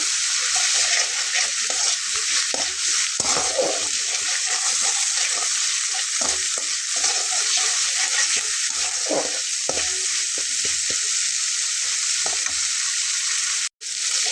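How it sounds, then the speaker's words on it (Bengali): Chicken curry spice masala is stir-fried in a pan, giving a continuous loud sizzle with irregular scraping stir strokes throughout and a brief dropout near the end. "মশলাটাকে খুব ভালোভাবে কষিয়ে নিতে হবে"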